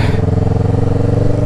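A motorcycle engine thumps loud and close in a fast, even pulse as the bike rides up onto a main highway.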